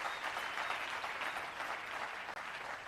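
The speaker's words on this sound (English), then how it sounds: "round of applause for our panelists" Dense, sustained applause from a conference audience at an economy summit, many hands clapping at once in a continuous, even wash with no voices standing out.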